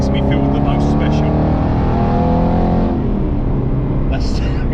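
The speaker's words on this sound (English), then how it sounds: "I can feel that engine, and it just wants to go and go. It's just, I know, it just wants to rev." Aston Martin Vantage GT8 engine droning loud and close with steady harmonic revs, easing off near the end as a fainter layer of wind noise takes over.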